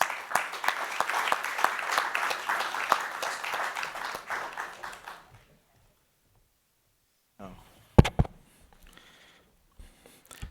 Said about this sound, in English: let's give him a very big round of applause, please.